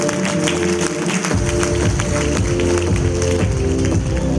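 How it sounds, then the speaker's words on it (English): Parents in an audience applaud at a school annual day, a full, steady round of clapping over music and background sound that holds at an even level throughout. "Dear parents, give them a big round of applause,"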